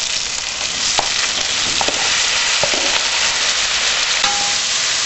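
Carrots frying in a hot pan for sweet pumpkin and carrot soup, a loud, dense, continuous sizzle with a few faint clicks of a utensil, no voices.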